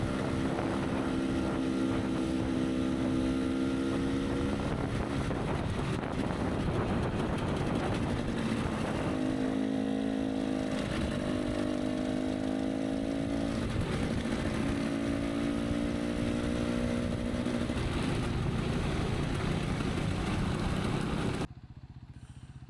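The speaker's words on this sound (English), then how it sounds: "this is Guy coming up the hill. He's riding his backup bike today. It's a Honda CRF 450L." Honda CRF 450L dual-sport motorcycle climbing a hill on a group trail ride near Panther Rock, its engine droning steadily with wavering pitch under heavy wind noise, then cutting off abruptly near the end.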